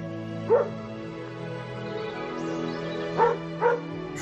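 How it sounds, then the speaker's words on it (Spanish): A distant dog barks in a sheltered Galician valley village, three short yips spaced apart, thin and far off over a steady background hum. "un perro lejano ladra"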